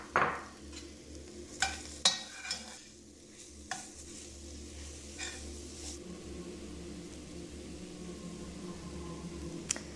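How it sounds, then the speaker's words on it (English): Mushrooms saute in a pan with a soft steady sizzle, broken early by a few clinks and scrapes of stirring, fairly quiet and close with no voices. "we're gonna add the mushrooms now. And we're gonna let them saute for around 2-3 minutes"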